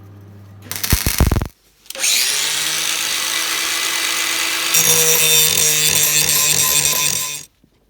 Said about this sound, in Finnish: Porailen ne siihen